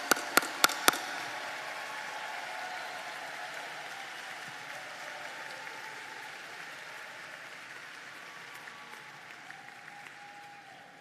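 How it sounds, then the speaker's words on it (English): At Loyola's class of 2021 diploma ceremony, an audience applauds College of Business graduates. A few sharp knocks open the moment, then a long, even wash of clapping gradually thins and fades. "These scholars have studied with distinction and they merit your applause."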